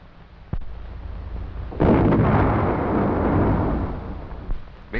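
A bridge is blown up by engineers in a 1940 wartime setting, heard as a sharp thump followed by a heavy, rumbling blast that rolls on for several seconds before fading, loud and boomy.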